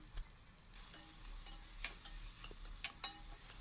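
Onions frying in hot oil for a North-style chicken curry, a steady soft sizzle with occasional stirring scrapes and clinks close by, no talking.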